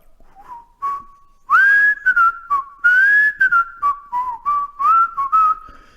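A person whistles a lively tune alone, with short melodic phrases of rising and falling notes, clear and close.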